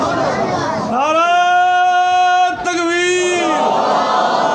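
A crowd at a religious gathering led by a Pakistani cleran in Dera Ismail Khan roars a slogan in unison, a loud sustained chant of many voices rising and falling together, briefly breaking and resuming before fading into murmur.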